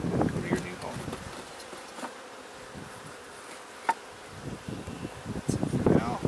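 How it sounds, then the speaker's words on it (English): Bees buzz steadily around a newly installed nucleus hive outdoors, a close swarm hum with wind noise and a person talking intermittently over it. "One bee in there already."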